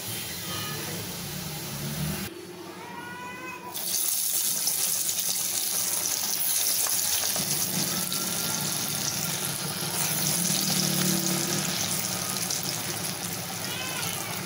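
Banana flower vadai deep-fry in hot oil as a loud, steady, dense hiss close by; the sound briefly thins out early on, then returns and carries on without change.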